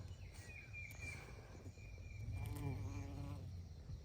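A bee buzzes on a Kansas homestead farm garden, a wavering insect drone heard close up alongside faint birds and outdoor ambience, with no one speaking.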